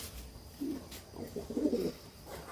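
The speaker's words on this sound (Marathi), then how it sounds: "कबूतर कसे वाटले." Pigeons in a breeding loft coo softly, with a few low, rounded, throaty calls rising and falling over a quiet background and no voices.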